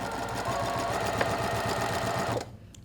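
A sewing machine stitches sashing onto a row of a Christmas quilt, a steady close whirring hum of rapid needle strokes running for a couple of seconds before abruptly stopping into quiet.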